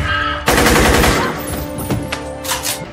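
Rapid automatic gunfire erupts in a loud, dense burst during a movie shootout, with further sharp shots cracking out in the following seconds.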